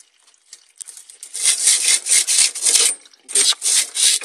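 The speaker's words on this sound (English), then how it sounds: "Now remember, you don't want to sand it too much because you don't want to change the shape so your new fitting won't fit" Sandpaper rubbed back and forth over a plastic pipe end to clean it before fitting, loud close scratchy strokes in an uneven rhythm with brief pauses between passes.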